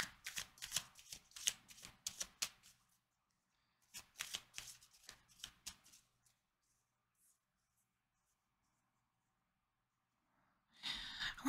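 Oracle cards are shuffled by hand in quick, crisp riffling bursts, close and clear, pausing into near silence before a final short shuffle, with no talking.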